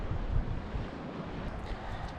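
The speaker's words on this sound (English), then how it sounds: "And look at that swell and that water." Sea swell and waves off Holy Island, heard as a steady broadband wash of surf mixed with heavy wind buffeting on the microphone, with no voices.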